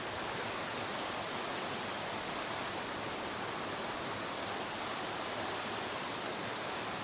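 A river flowing on a Seven Falls hike produces a dense, steady rushing roar. The sound is constant and broadband with no breaks, like nearby whitewater, and no voices are heard.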